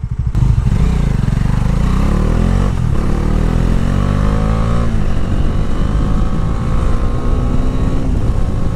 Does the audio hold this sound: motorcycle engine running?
yes